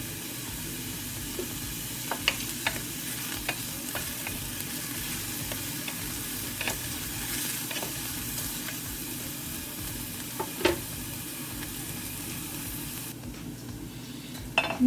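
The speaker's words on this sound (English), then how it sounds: "Just stir that until it's translucent." Ingredients for a mushroom gravy sizzle steadily in a frying pan while a utensil stirs them, with occasional light scrapes and clinks against the pan, close and continuous.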